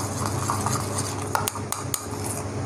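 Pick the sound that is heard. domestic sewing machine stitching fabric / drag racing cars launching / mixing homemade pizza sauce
mixing homemade pizza sauce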